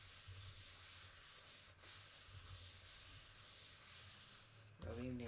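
A piece of leather rubbed down by hand onto a wood plaque for a leather collage, a steady soft rasping friction that runs continuously, followed by a brief voice at the end.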